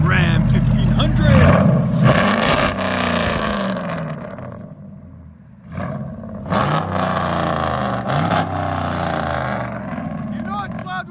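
A RAM 1500 with a 5.7L HEMI V8, headers, true dual exhaust and a muffler delete revs hard in loud, rumbling bursts close by, dips briefly midway, then revs again. Voices talk over it.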